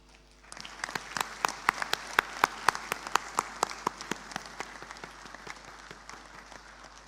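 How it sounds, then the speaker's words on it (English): Graduates at a university convocation give their parents a standing round of applause. Dense, even clapping fills the hall, with a few sharp, close handclaps standing out at a steady rhythm before the sound tapers off. "give a good round of applause to your parents in appreciation of their unwavering support and commitment"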